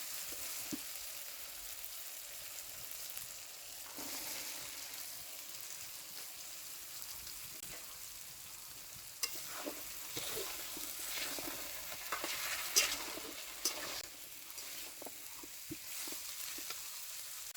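Potatoes added to spiced masala frying in hot oil give a steady, soft sizzle, with occasional stirring scrapes and small pops throughout, and no one speaks.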